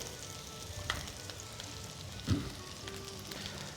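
Onion frying in a pan for an Armenian khashlama: a steady, fairly quiet sizzle with small crackles and one brief stirring clunk, with no voices.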